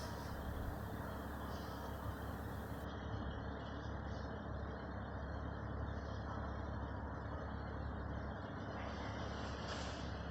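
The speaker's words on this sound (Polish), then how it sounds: "Tu dla odróżnienia był poziom tła, przejeżdżający samochód." A car passes on a street, heard as a steady broadband roar of road and ambient noise that holds fairly even and moderately loud for about ten seconds, with no voices.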